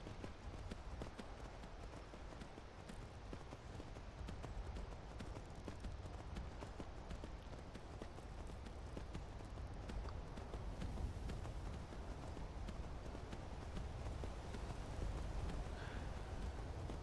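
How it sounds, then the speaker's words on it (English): A horse gallops along a road in Skyrim, its hooves making a steady, rhythmic clip-clop that stays quiet and even throughout. "It's a bit of running on the horse."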